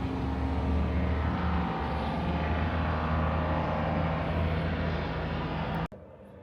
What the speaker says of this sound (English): There was a lot of noise going on, helicopters, cars.